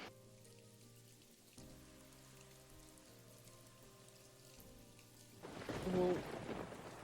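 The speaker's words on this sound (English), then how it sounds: "It's a thunderstorm." A rain-and-thunder effect plays softly beneath a tonal musical bed, with steady rainfall and a swelling rumble of thunder rising near the end.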